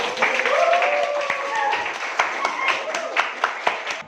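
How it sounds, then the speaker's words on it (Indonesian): A classroom of students claps together, a short burst of scattered, close handclaps mixed with voices talking, thinning out into a few separate claps toward the end. "silakan beri aplaus untuk Bapak"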